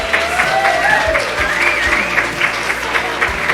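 An audience claps at a spring fashion parade as shirt models are introduced, a steady, dense round of applause sustained throughout at moderate distance.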